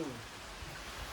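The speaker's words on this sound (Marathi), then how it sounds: "आज अचानक दुपारच्या 12 वाजता पावसानं चालू केलं" Sudden midday rain in Sangdewadi village, a steady broadband wash of falling drops that holds at an even level throughout the short stretch, with no talking.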